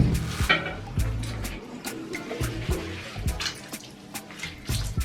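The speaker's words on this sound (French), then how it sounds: "mes racines, je les rince bien, j'enlève bien le shampoing." Water splashing and dripping while shampoo is rinsed out of braided hair roots: uneven bursts of running water and spatter, close and fairly loud, in a bathroom.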